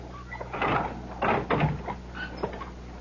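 Door opening and closing as a radio drama sound effect, heard as a few handling thumps and creaks in a quiet room, close and moderately loud.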